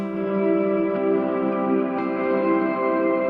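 Worship-style electric guitar rings out a 4/2 chord voicing without a bass note, a sustained shimmering chord washed in echo and reverb, steady and alone for a few seconds.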